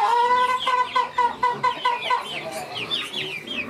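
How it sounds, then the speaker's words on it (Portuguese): Chickens clucking on a small farm, a busy run of repeated squawky clucks from several birds, close and fairly loud, with no talk over them. "Eu acho bonito... Cacarejar, Madalena."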